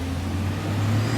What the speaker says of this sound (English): sorry about the noise, a lot of buses